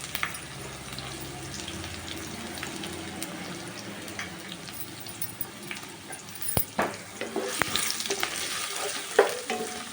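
Thinly sliced onions fry in a pan, with a steady soft sizzle and occasional stirring and clattering that grows a little busier toward the end, no voices present.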